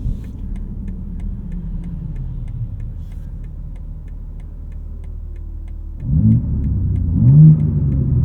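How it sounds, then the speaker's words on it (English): A 2025 BMW M2 six-speed manual engine hums low and steady, then revs up sharply and climbs in pitch, loud and close from inside the car. "The engine sounds good."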